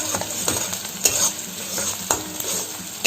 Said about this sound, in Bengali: তো পেঁয়াজটা একটু ভাজা হলে তারপর আলুগুলো দেব।